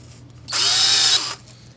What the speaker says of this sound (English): or take this drill, chuck the Dream Reamer in there,